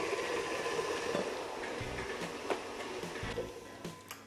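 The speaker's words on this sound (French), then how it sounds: "J'arrête mon batteur" An electric beater whips a mint-chocolate entremet mixture, giving a continuous close whirring drone at a steady level with faint ticks and knocks near the end, no voices.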